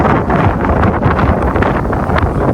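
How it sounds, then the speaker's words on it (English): Strong wind buffets the microphone in a constant roaring rush, loud and gusty throughout. "It is very windy, as you can hear"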